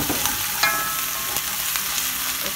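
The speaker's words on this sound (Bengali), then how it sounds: "এবার এটা ভোনা হোক।" Ginger-garlic paste and spices fry in a pan with browned onion, a steady, close sizzle with a few scraping stirs and small pops, no voices.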